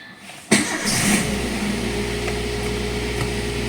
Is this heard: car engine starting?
yes